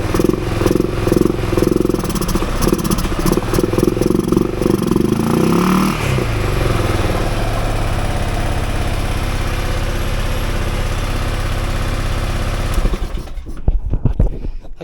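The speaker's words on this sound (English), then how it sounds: "I gotta do a little more tuning on this four-wheeler, but the carburetor seems to be just fine." 2005 Honda Rincon 650 ATV engine running on a non-OEM carburetor, a loud continuous mechanical rumble with clattering that shifts in tone around the middle, then cuts off abruptly near the end.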